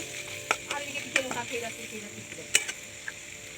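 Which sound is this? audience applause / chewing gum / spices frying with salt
spices frying with salt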